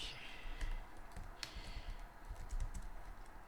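C# code being typed on a computer keyboard, a soft, quick patter of close key clicks with a few louder taps, over a faint room hum.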